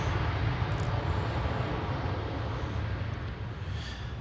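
Airplane taking off at Adelaide Airport, a broad, steady roar of jet engine noise heard at a distance that stays even in loudness and then fades slightly toward the end, with no voices.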